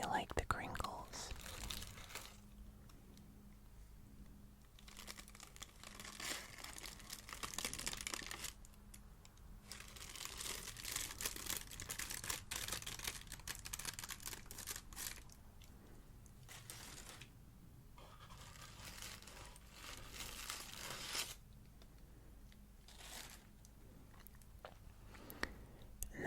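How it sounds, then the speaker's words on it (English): Cellophane wrappers of kohakutou crystal candy crinkle in close, crisp bursts that start and stop repeatedly, alternating with quiet pauses and faint whispering. "I really like the crinkles."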